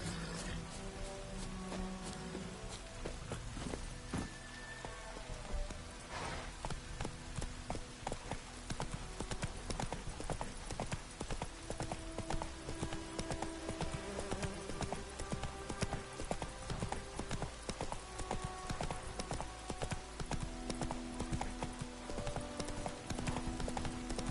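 In The Witcher 3: Wild Hunt, horse hooves clip-clop in a steady, continuous rhythm at moderate volume, a trotting gait over a faint background wash.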